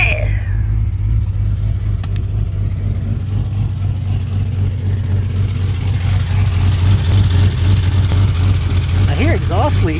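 A 1989 Jeep XJ engine idles with a new Flowmaster 50 muffler and a possible exhaust leak ahead of it, giving a loud, steady low rumble throughout with a slight rise in revs near the end while people talk over it.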